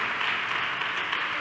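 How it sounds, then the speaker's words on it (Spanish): A church congregation at a Bible seminar applauding, a dense, steady wash of many hands clapping together, loud and sustained throughout with no voices standing out. "déle ese aplauso al Señor"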